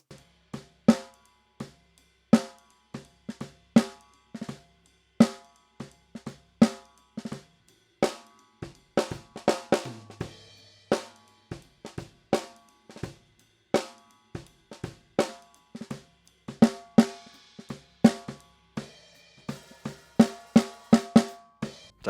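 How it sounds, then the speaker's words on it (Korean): Acoustic drum kit recording with the snare bottom microphone phase-inverted, steady close hits in a regular groove, fairly thin and quiet, playing alone without talk. "바텀의 상을 바꾸니까 소리가 확 얇아지는 게 느껴집니다."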